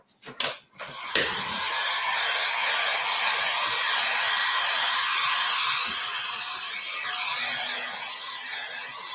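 A heat or hair dryer whirs steadily for several seconds while drying a mixed-media art project, starting after a couple of brief clicks and handling noises, with no one speaking.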